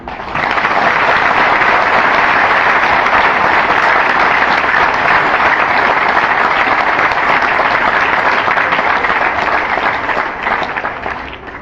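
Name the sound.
audience clapping loudly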